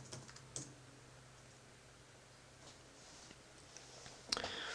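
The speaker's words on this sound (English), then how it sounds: "we're going to open the command prompt here, and we will do an ipconfig release and an ipconfig renew." Soft keyboard typing at a computer workstation while entering ipconfig release and renew commands, light rapid key clicks in short bursts with a louder tap near the end, fairly quiet and with no talking.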